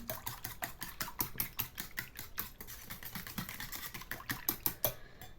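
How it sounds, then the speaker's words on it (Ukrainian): Two eggs are whisked briskly in a bowl for bread dough, a fast, steady run of light clicking taps as the whisk strikes the sides. "Тут у мене приготовлено два яйця. Зараз я їх зіб'ю"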